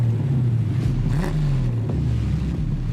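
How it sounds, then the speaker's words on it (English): A 1987 Land Rover Defender fitted with a 4-barrel carburetor revs as the throttle is blipped, its steady engine rumble rising briefly in pitch and then settling back to a low idle drone. "Look at the throttle response when you hit the throttle."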